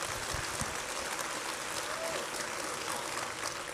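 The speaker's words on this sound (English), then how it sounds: "take 1 minute and clap your hands if you will." A church congregation claps their hands, a steady wash of dense applause that holds evenly throughout at moderate distance.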